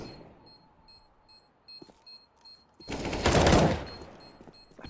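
Gunfire during a Counter-Strike match on the Nuke map: a few faint shots and game beeps early on, then a loud burst of rapid fire near the middle, with no talk.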